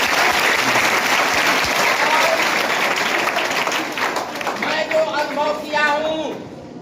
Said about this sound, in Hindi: जोरदार तालियां निकल